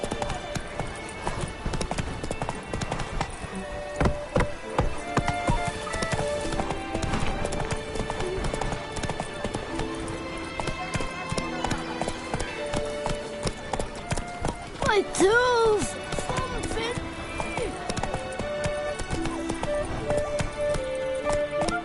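Steady clip-clop of a horse galloping in The Witcher 3: Wild Hunt, the hoofbeats running continuously under loud game music and effects, with a voice talking over it.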